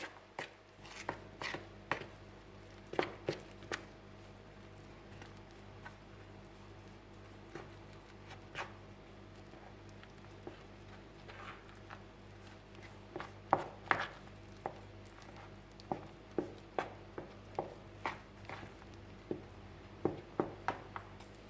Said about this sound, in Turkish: Unumuzu bir miktar kabımıza aldık ve karıştıralım.